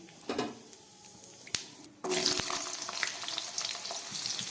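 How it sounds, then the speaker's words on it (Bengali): Bay leaf and cumin seeds dropped into hot oil for a shukto tempering burst into loud, close sizzling after a few sharp clinks, the crackle staying steady to the end. "এই তেলের মধ্যে আমি একটা তেজপাতা আর একটু জিরে ফোড়ন দিয়ে দিচ্ছি।"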